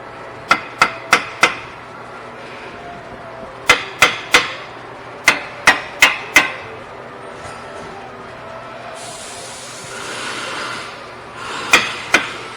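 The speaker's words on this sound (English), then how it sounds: "Have a little hammer action here." Sharp metal hammer blows on the front suspension of a second-generation Nissan Murano during control arm replacement, in quick bursts of three or four strikes separated by pauses, close and loud.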